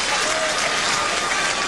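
Boxing crowd applauding after the 10th and final round of Delmar Paisan versus Tracy Spann, a steady dense wash of clapping and cheering that fills the whole moment without a break.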